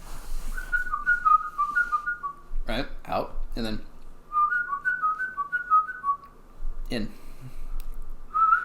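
A person whistles short, bright, wavering notes in two bursts, with close conversational speech and laughter between and over them.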